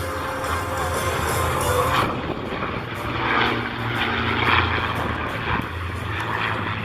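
Propeller fighter planes, F4U Corsairs, roar overhead in close formation at an air show, their engines droning loudly with a rising and falling whine.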